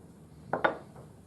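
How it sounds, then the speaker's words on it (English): Two quick clinks of ice cubes dropping into a Morphy Richards Easy Blend blender beaker that already holds milk and raspberries, close and fairly soft, with a faint third knock after them. "To that, we'll add a couple of ice cubes"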